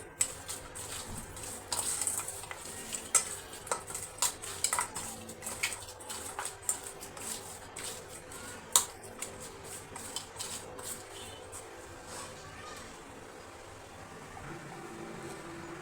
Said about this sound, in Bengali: আর এই যে হলুদ গুঁড়ো। ভালো করে মেখে নিচ্ছি।